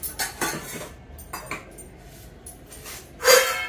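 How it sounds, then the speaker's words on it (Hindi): Dishes and cutlery being put away into a basket in a home kitchen, with a few scattered clinks and clatters of metal utensils and a louder crash of pans near the end. "बस अब बर्तन लगा दे रही हूँ"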